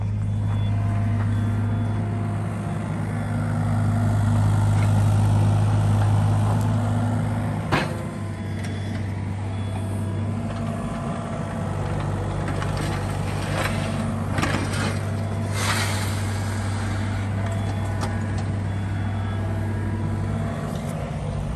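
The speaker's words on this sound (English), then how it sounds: "if you ever need to move a little dirt or a lot of dirt, a little machine like this is a way to go." A small dirt-moving machine runs steadily nearby, its engine giving a low, constant drone with some clanks and rattles of work along the way and no talking over it.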